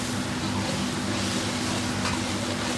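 Premixed sauce trickles down the side of a hot wok onto beef stir-frying over medium heat and meets it with a soft, continuous sizzle. The sound is faint and steady throughout, and a low hum runs under it.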